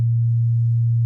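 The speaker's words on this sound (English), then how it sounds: "So one more time on the sine wave" A pure sine wave tone, steady and loud, holding one low pitch for about a second with no other sound.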